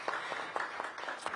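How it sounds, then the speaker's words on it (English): Brief applause from an audience at a senior tele-town hall budget forum, a light patter of claps lasting just over a second, faint and thin as if picked up over a phone line. "Give her a round of applause."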